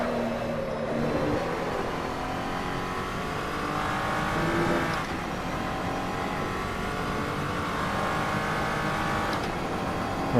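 An SCG 003C race car from the Assetto Corsa racing game drives hard on track, its engine droning steadily with rising and falling pitch as it shifts and brakes, loud and continuous throughout with no voices.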